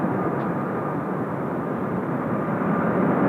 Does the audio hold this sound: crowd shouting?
no